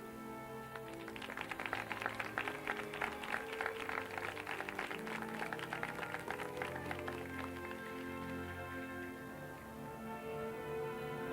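Audience applause for cast members at a Disneyland award ceremony, a long stretch of dense clapping that swells and then fades, heard somewhat distant over a steady tonal background.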